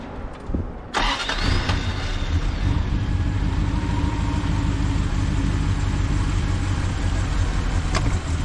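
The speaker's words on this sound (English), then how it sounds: "And the only thing left to do now is see if it'll start." A 1973 Triumph Stag engine cranks briefly and fires, then settles into a loud, steady idle that runs close and unbroken for several seconds.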